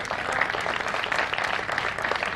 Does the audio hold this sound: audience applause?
yes